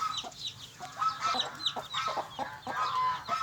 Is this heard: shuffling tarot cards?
no